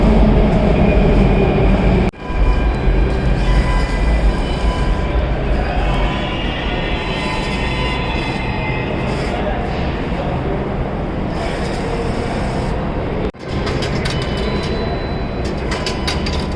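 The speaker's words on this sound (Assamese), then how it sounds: "Esa Delhi Metro. Finally আমি মেট্ৰ' উঠিম" Delhi Metro train running, a loud continuous rumbling hum with whining drive tones heard from inside the carriage, punctuated by two brief dropouts, with faint background voices.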